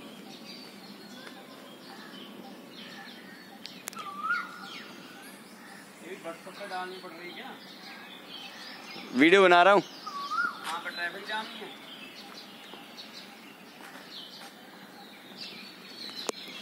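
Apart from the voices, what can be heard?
Asian koel calling in the early morning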